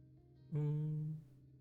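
A single cat meows once in the Honkai Impact video game, a short, clear, tonal call heard alone against quiet game ambience.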